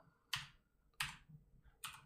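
Three crisp, separate keystrokes on a computer keyboard, each a sharp close click with a short gap between, over a quiet room.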